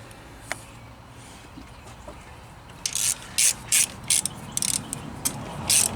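A beam-style torque wrench tightens Jeep 4.0 rocker arms. After a quiet stretch with a few faint ticks, it gives a series of sharp, close ratcheting clicks in short bursts.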